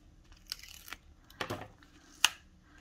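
Backing is peeled off adhesive tape while a paper scrapbook album page is assembled, heard as a few short crinkling, tearing rips and one sharp snap up close in a quiet room.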